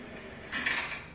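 A transparent plastic drawer slides open or shut with a short, light scraping rattle, close and fairly faint, then fades.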